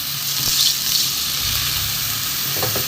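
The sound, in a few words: water poured into a pan of raw moong dal, sizzling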